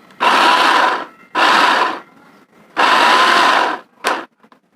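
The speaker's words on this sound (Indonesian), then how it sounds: "Nah, sekarang ini lagi mau giling. Kita giling daging." Beef being minced in an electric meat grinder, heard as three loud, steady whirring bursts of a second or so each with brief pauses between, then a short final burst as the motor cuts out.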